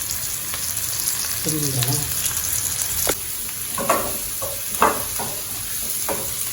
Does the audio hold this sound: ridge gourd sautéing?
yes